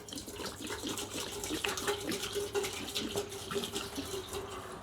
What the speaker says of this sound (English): Let's pour some of this in.